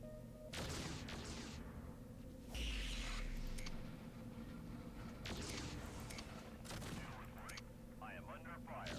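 Autocannons fire in Mechcommander 2 battle, repeated heavy bursts of gunfire a second or two apart with booming impacts under a constant mechanical rumble, a voice talking intermittently over it.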